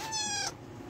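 A single short cat meow, close and clear, rising and then cut off, followed by quiet room noise.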